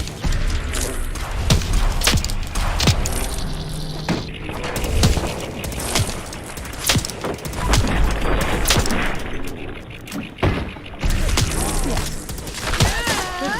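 Rapid, loud gunfire from the video game Fallout 4, with dense bursts of automatic shots and heavy booming impacts repeating steadily throughout, and occasional thuds between volleys.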